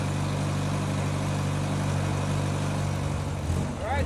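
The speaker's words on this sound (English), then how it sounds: "I think it started up because I still had some gas in the float holes." A Volvo 544 engine idles steadily after starting, a constant low mechanical hum with a brief change near the end.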